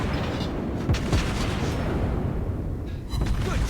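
Six-inch cruiser guns of the USS Cleveland fire in World of Warships Blitz, a couple of sharp booming shots over a constant low battle rumble.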